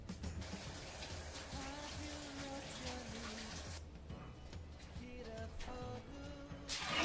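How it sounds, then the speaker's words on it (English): Tap water runs steadily while hands are washed clean of margarine in a home kitchen, a continuous splashing hiss with brief breaks, and a faint musical tone sits underneath. "I'm gonna wash my hands."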